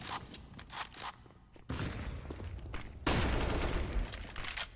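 Bursts of rifle fire crack out during a competitive CS:GO round, with a quick run of shots followed by two heavy, loud volleys that hit hard and ring out, over faint background noise and no talking.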